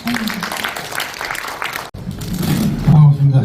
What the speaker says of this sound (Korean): 정일근 시인님, 네, 큰 박수 부탁드립니다.